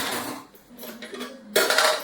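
Steel utensils and dishes clatter in a Konkan village kitchen, with a soft scraping and light knocking at first and then a sudden bright metallic clash of pots near the end. Close and fairly loud, with no talking.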